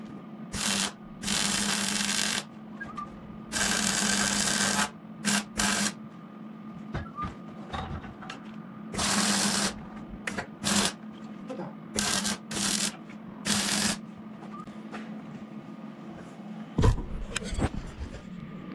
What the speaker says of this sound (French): là ça va être bouchure, hein, soudure